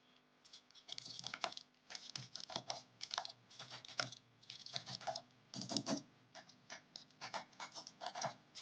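Rapid typing on an Apple Magic Keyboard with numeric keypad: dense, uneven runs of light key clicks and taps, close and clear, with brief pauses between bursts and no talking.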